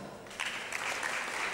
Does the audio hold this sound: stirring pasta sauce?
no